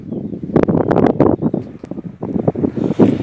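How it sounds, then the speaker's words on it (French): Strong wind buffets a phone microphone in a sunflower field, loud gusty rumbling and crackling bursts that fluctuate continuously throughout. "il y a beaucoup de vent, je m'en excuse d'avance"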